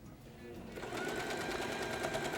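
A sewing machine stitches a patchwork seam for a table runner, its fast, even mechanical chatter starting softly and settling into a steady close run.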